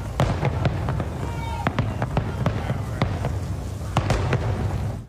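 A fireworks show at the Mukilteo Lighthouse Festival in Washington, with a rapid, irregular series of sharp booms and crackles, some close and loud, over a constant rumble and faint crowd noise.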